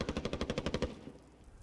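Rapid automatic gunfire in a video game, about ten quick evenly spaced shots in a tight burst that stops abruptly, close and loud with no voices.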